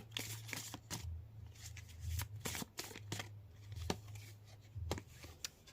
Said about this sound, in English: I'm going to shuffle this deck and see what energy and messages it wishes to share with us tonight.